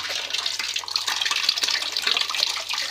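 A flashlight being dipped into a pan of water while being tested for waterproofing, giving a steady close splashing and trickling wash of water with no talk.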